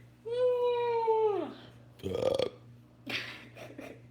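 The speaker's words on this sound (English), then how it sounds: "That pink drink got me burping." A man lets out a long, loud burp after a pink drink. A short grunting noise and some mumbled speech follow.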